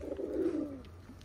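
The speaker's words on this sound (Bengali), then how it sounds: "আজকে আপনাদের দেখাবো আমার খুলনার যে হাই ফ্লায়ার কবুতর" A Khulna high-flyer pigeon gives a single soft, low coo, rolling and slightly falling, faint and close with no other sound around it.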